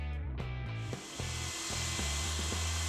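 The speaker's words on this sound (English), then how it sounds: "A lot of power to this saw." Ryobi RTS10NS 10-inch 15-amp table saw running and cutting wood, a loud steady motor whine with repeated dips and surges as the blade bites through the board, close and continuous with no talking.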